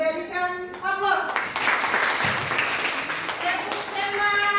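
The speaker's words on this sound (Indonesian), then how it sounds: "Terima kasih untuk kelompok estetik, berikan aplaus." A classroom group bursts into applause for students who have just presented, a dense clatter of many hands that follows a brief voice and goes on steadily under light chatter.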